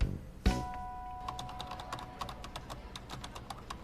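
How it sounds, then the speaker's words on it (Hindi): Hard, rapid typing on a computer keyboard, with a quick run of sharp, close key strikes following an initial thump, and no talk over it. "अरे कीबोर्ड टूट जाएगा।"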